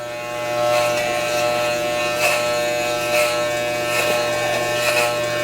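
Electric hair clippers fitted with a guard cutting a man's short hair at home, a steady close buzz with soft rhythmic swells as strands pass through, continuous and fairly loud, with no talking.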